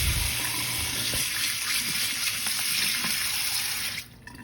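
Shrimp being rinsed under a running kitchen tap, a steady loud hiss of water splashing into a sink with small clunks, until the flow cuts off near the end.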